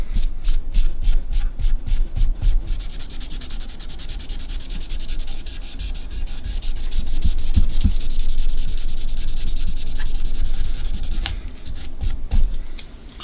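Cloth rag rubbing black stain into a quilted maple carved-top guitar body, a steady close scratchy swishing in repeated strokes, growing denser partway through, with no talking.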